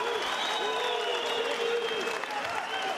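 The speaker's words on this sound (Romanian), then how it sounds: "Și publicul la scenă deschisă aplaudă și strigă Nuri, Nuri." A boxing crowd in a German arena, Hamburg, applauds and shouts a fighter's name in a dense, continuous roar of clapping and cheering that fills the whole stretch at steady loudness.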